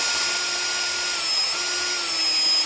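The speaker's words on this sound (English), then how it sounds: "I'm just going to drill a hole right where I marked it" A power drill boring a hole through a wooden cabinet door, a continuous steady whine at a constant pitch that stays loud and unbroken throughout, with no voices.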